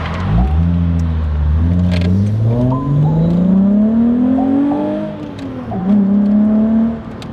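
A Volkswagen Corrado VR6 engine pulls hard through the gears, its loud, close drone rising in pitch, dropping briefly at each shift and climbing again over several seconds, heard from inside the car without speech.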